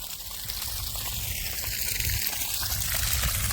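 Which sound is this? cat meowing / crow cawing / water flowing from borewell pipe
water flowing from borewell pipe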